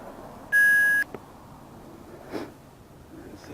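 A motorcycle rider's headset gives a single steady electronic beep, about half a second long, as it connects; then comes near-quiet with faint breathing noises close to the mic.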